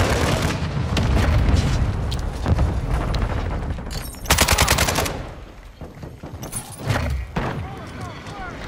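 VTOL gunship fire in Call of Duty MW2 crackles in rapid machine-gun bursts, broken by heavy booms and blasts. A player talks over the barrage as it swells and fades in uneven waves.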